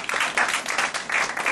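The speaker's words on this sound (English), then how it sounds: "I would like first to give an applause to my friends there in the back" Audience at a grassroots freethinkers forum applauds, a short burst of dense, fairly close clapping from many hands, lasting under two seconds.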